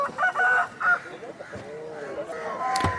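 A rooster at a poultry market in Vijayawada crows once or twice up close, amid market chatter and other fowl clucking in the background.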